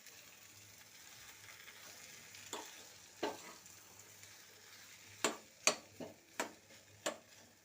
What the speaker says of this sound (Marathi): इथे थोडं मध्ये झाकण काढून आपण भाजी ढवळून घ्यायची